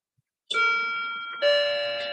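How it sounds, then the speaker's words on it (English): An electronic chime sounds twice in quick succession, bright sustained tones ringing loudly from close by against otherwise silent surroundings. "You did not turn off the alarm."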